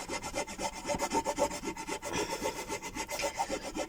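Tape being rubbed firmly onto a surface, a steady rhythmic back-and-forth scratchy rubbing close up, continuous and moderately loud with no talk.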